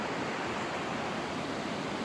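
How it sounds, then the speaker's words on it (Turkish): A stream flows through a canyon as a steady, even rush of water, moderately quiet and unbroken, with no voices or other sounds. "Şu an tam derenin ortasındayım."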